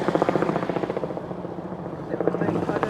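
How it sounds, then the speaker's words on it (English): A helicopter passes overhead on the Thames foreshore in London, its steady rotor thudding loud and continuous throughout, with city noise beneath and faint voices mixed in. "And a helicopter going over."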